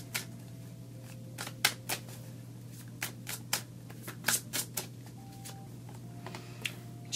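Tarot cards are shuffled and picked in a quick series of crisp flicks and riffles that come close and clear. A low steady hum runs under the card sounds the whole time.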